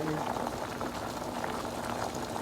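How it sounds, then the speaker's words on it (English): Black beans boil in a pot of water for Haitian black bean sauce, a dense, steady bubbling roar that fills the whole stretch at close range, with faint talk underneath. "It's almost good, but they need to be boiled for"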